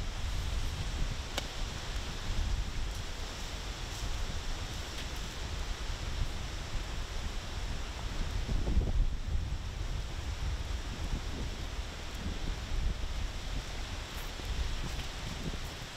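Wind gusts across an open disc golf course, a continuous low rushing roar with buffeting against the microphone, rustling trees and no speech for the whole stretch.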